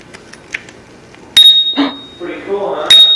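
A small bell, like a bicycle bell on a child's bike, is rung twice on Christmas morning at home, with two sharp bright rings ringing out over room noise and a child's and adult's voices in between.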